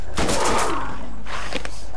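Video-game gunfire in Borderlands booms in loud, rapid bursts that fill the whole moment, with a quick cluster of shots up front and a few more reports trailing after.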